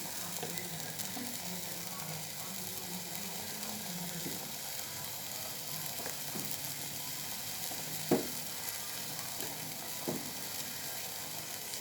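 Dhal curry with water, chilli powder and turmeric is stirred in a pan, a soft continuous simmering hiss with occasional scraping spoon strokes and one brief knock against the pan.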